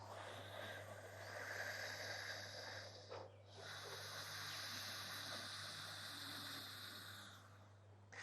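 Ujjayi breathing with the mouth closed and the throat constricted: a soft, continuous ocean-like hiss through the nose, faint and steady with one brief break partway through.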